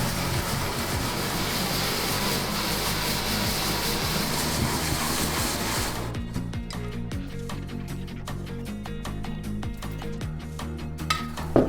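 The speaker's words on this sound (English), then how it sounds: "We placed one half of the crankcase on a sheet of sandpaper and sanded the surface using circular motions." A moped engine crankcase half is rubbed in circles on a sheet of sandpaper, producing a steady, close, continuous gritty scraping that runs throughout, turning somewhat thinner and more rhythmic partway through, with no talking.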